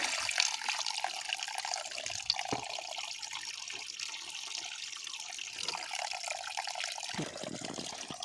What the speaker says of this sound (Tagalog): Ito maganda sa bundok na to eh.